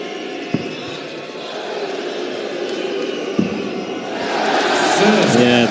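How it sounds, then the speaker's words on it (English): A partisan darts crowd at the German Darts Grand Prix 2019 gives a low, steady murmur with scattered thuds that swells into louder cheering and whistling near the end, while commentators talk over it. "the partisan crowd playing their part maybe to just knock Sedlacek off his balance there"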